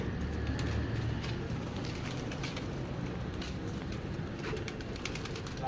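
Pigeons on a rooftop in Mirpur give soft, low cooing calls that repeat over a steady, faint outdoor background hiss, fairly close and with no talking.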